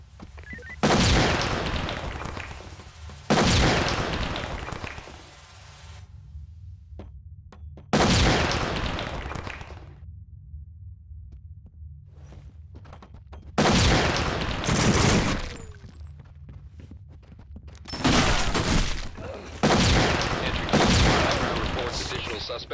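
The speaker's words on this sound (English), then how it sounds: "the suspects are erratic and shooting each other" Gunfire in the tactical shooter SWAT 4 as suspects shoot each other, loud broadband bursts recurring in clusters across the scene with quieter gaps of ambient rumble between them, no talk.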